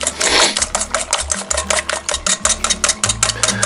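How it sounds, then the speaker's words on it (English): Olive oil mayonnaise being whisked in a bowl, a rapid, steady clatter of whisk strokes against the bowl, close and alone with no talking. "we're going to whisk that together"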